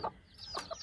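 A broody hen and other hens give a few short, soft clucks close by, with quiet gaps between the brief calls.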